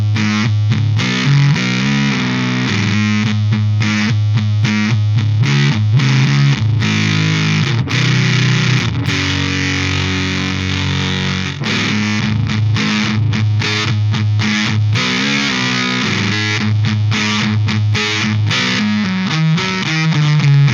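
Guitar played through a Way Huge Swollen Pickle Jumbo Fuzz MKIII pedal with the scoop switched off, giving a thick, saturated, sustained fuzz tone with chords and riffs that stays loud and continuous throughout, with no talking.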